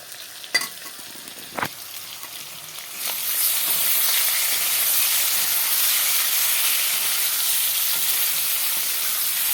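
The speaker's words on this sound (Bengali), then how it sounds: "এখানে দেখো আলুটা ভাজার জন্য বসিয়ে দিলাম আলুগুলো লাল করে ভেজে নেবো এখন" Potatoes for a rohu fish curry frying in hot oil, a few faint clicks giving way after about three seconds to a loud, steady sizzle that holds to the end, with no talking.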